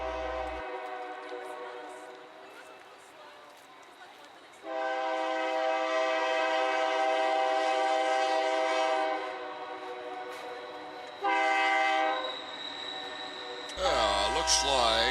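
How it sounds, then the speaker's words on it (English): A westbound UP mixed freight train descends Echo Canyon, its horn blasting in long loud sustained chords that stop and restart, with rumbling rail noise and a voice talking in between. "a westbound UP mixed freight"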